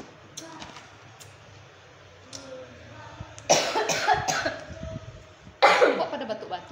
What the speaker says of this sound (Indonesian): Kok pada batuk-batuk ini?